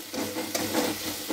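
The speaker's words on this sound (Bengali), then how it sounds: "আমি পেঁয়াজটা দিয়ে একটু নাড়াচাড়া করে নিয়েছি" Onions frying in a pan with ginger and garlic for a chicken dish, giving a steady close sizzle with soft scraping strokes of stirring throughout.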